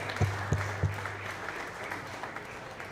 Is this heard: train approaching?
no